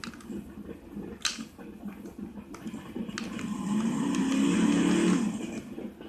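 A souped-up drag race car in the game Brick Rigs, near its 500 km/h top speed, builds from a low rumble to a loud sustained roar, punctuated by a few sharp clicks.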